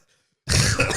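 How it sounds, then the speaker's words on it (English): A single harsh cough bursts out after a moment of silence, close and loud, with a rough throaty quality. "My potential COVID cough."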